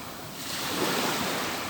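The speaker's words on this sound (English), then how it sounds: "Here, only the wind speaks. Only the waves answer." Ocean waves and wind on a deserted island: a broad, steady wash of surf and gusting air rising slightly and holding, close and fairly loud, with no voices.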